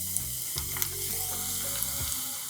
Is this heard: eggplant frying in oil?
yes